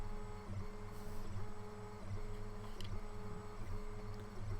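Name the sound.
Comgrow Z1 10W diode laser engraving plywood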